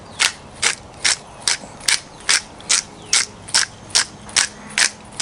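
A hand pepper grinder cranked over a Weber kettle barbecue while seasoning a tomahawk steak, about fourteen evenly spaced, loud, close ratcheting grinds in a steady rhythm, no talking.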